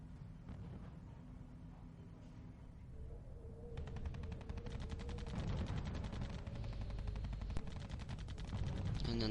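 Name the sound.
gunfire from Tiger tanks in a video game, Company of Heroes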